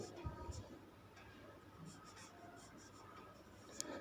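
Chalk writing on a board during a Class 10 trigonometry lesson: faint scratchy strokes and taps in short bursts, quiet, in a roomy space with a teacher's voice occasionally present.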